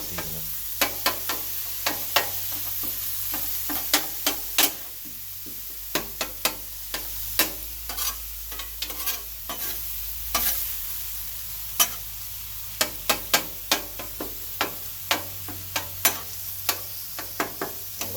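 Corn cut off the cob fries on a 22-inch Blackstone griddle with a steady close sizzle, punctuated by frequent crisp spatula clicks and scrapes against the flat top as it is stirred, no voices present.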